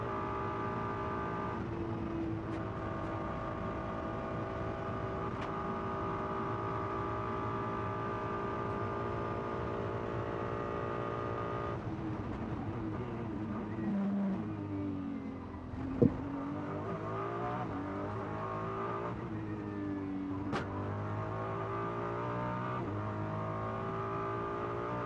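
A race car engine drones loudly and continuously from onboard at the Macau Grand Prix street circuit, its pitch rising and falling through gear changes and braking, with a sharp thump midway.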